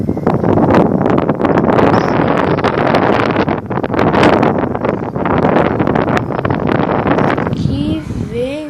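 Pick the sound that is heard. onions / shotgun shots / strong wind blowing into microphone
strong wind blowing into microphone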